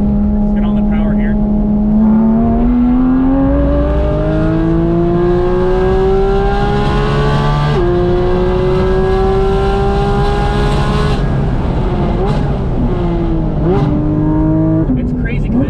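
A Porsche GT4 RS accelerates hard on a race track, its engine note climbing steadily through the gears with brief dips at each shift, loud and close throughout.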